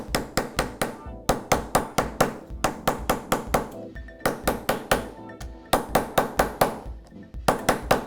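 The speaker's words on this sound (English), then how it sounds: "And I use my rawhide mallet for this." A rawhide mallet beats soft sheet metal for a jewelry ring in quick runs of sharp, ringing taps, pausing briefly between bursts. Close and loud, with no talking.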